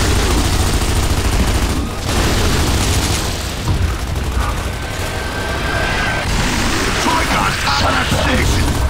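Dense, continuous gunfire and booming blasts in Gears of War 2 fill the scene at high volume, a steady wall of combat noise with no clear breaks.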